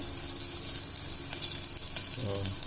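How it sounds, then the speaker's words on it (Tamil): Onions for brinjal pulao sauté in a pan with a constant close frying hiss and crackle, plus a brief stirring scrape near the end. "வெங்காயம் பாதி வதங்கலையே"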